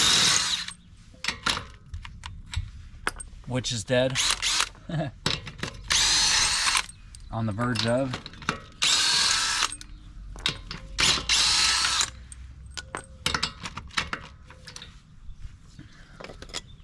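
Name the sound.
power drill with 22 mm socket removing lug nuts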